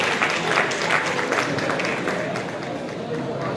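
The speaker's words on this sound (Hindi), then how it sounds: "एक जोरदार ताली होनी चाहिए हमारे रिजल्ट वाले लोगों की।" An audience at a motivational seminar bursts into loud applause, a dense wash of clapping and crowd noise that gradually eases, with a voice talking over it.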